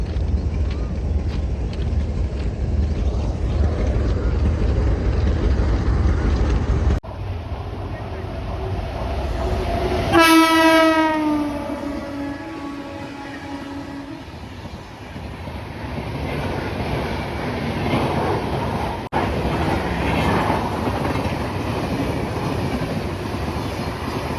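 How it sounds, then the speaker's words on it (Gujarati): A train engine roars past with rumbling noise and a rising-then-falling horn-like tone, wind buffeting the microphone, loud and close. "એન્જિનનો અવાજ આવે ભટકાઈને પાછો આવે."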